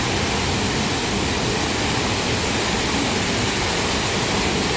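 The Coban Lanang waterfall heard from the area below it, a loud, dense and unbroken roar of falling water with no voices.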